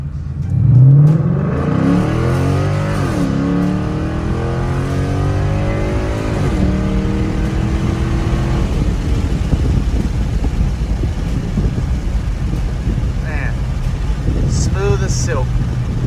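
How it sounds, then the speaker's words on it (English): A GT/CS car with a new driveshaft accelerates uphill to highway speed. The engine's loud, steady drone rises in pitch through gear changes, then settles into constant road and engine noise. "I want to try to get this thing up to highway speeds right here as I pull this hill"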